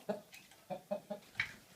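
A rooster clucks softly and close by, giving about half a dozen short, evenly spaced clucks over a quiet background.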